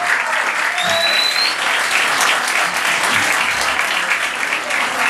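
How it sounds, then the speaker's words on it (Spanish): A crowd at a concert at Eter Club applauds loudly and continuously, a dense wash of clapping with a few whistles, sustained from start to finish. "Este aplauso que lo vamos a mandar"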